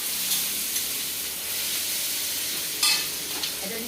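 Steady frying sizzle of ivy gourd (kundri) slices in a pan, a continuous bright hiss with a few louder spits and crackles near the end, heard alone without talk.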